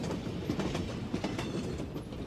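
Steady clickety-clack of a passenger train carriage rolling along rails on a journey to Bandung, a continuous rumbling drone with rhythmic wheel beats heard from inside the car.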